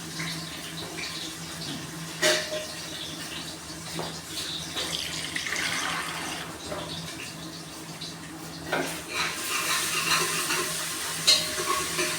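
Garlic, onion and green chili frying in a pan for a mushroom and pea curry, a steady close sizzle with occasional scraping stirs and clinks, no voices.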